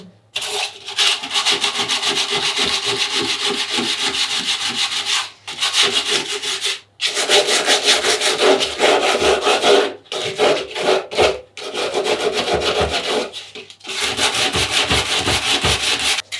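Sandpaper rubs a surfboard fin smooth in long, steady scraping strokes, close and loud, stopping briefly for short pauses between bursts of rapid back-and-forth rubbing.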